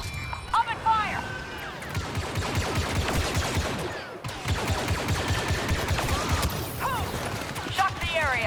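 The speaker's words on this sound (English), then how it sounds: "That armor's too strong for blasters." Rapid blaster fire from a Star Wars Battlefront II battle, with dense bursts of overlapping shots throughout, joined by chirpy electronic effects and voices shouting over the combat.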